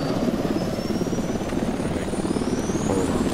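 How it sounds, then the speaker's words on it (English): Helicopter in the military shooter game Project Reality, a loud, steady rotor and engine roar with a thin turbine whine that climbs in pitch, heard alone without talk. "Alright, I'm popping the first chopper."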